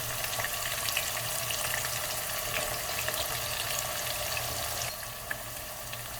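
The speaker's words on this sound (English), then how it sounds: "We'll give them a quick stir through before we add our spices." Meat for a beef bunny chow fries in a pan and gets stirred, giving a loud, continuous close sizzle with light scraping that eases off a little near the end, with no voices.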